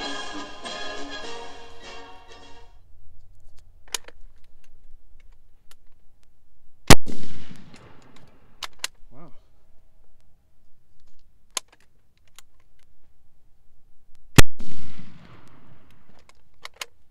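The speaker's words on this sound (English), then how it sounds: "let's go do 2 minutes rapid fire from the prone" Black-powder rifle fire from a Dreyse needle gun and an M1854 Lorenz rifle-musket during prone rapid fire, with two loud, sharp shots several seconds apart, each trailing a rolling echo, plus fainter clicks and handling noises in between.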